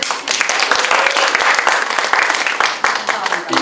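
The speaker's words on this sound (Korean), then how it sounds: "그럼 박수 한번 크게 주세요." Audience applause fills a book concert hall, a dense, loud wash of many hands clapping steadily for nearly four seconds, with a faint voice briefly audible near the end.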